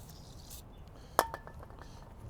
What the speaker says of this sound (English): we're gonna take our 7mm pieces of hardware